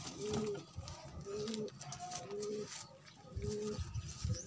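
Soft, rhythmic cooing of a desi (Indian domestic) pigeon repeats several times against a noisy background with faint rustling and indistinct voices.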